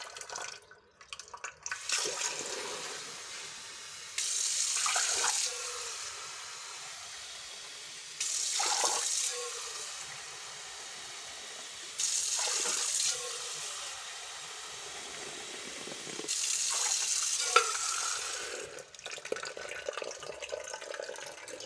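Water is poured cup by cup into a large cooking pot while making sago and rice-flour vadiyalu, giving four or five distinct splashing pours of a few seconds each, separated by short pauses.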